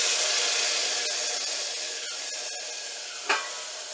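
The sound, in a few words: colocasia leaves added to sizzling garlic-chili tempering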